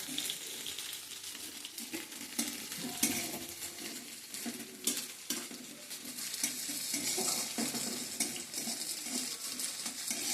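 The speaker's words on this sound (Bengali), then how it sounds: "সামান্য হলুদ আর একটু নুন দিয়ে এই বেগুনগুলোকে একটু ভাপিয়ে নিচ্ছি।" Eggplant pieces seasoned with turmeric and salt sizzle steadily in a pan, with frequent scraping and stirring clatter throughout.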